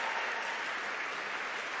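A congregation claps at a Pride worship collaboration service, a dense, steady wash of many hands that holds at an even level for the whole two seconds.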